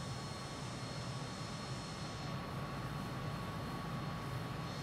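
In Microsoft Flight Simulator 2020, a MiG-21bis jet in flight gives off a steady, faint engine roar with a continuous whine, unchanging and uninterrupted throughout.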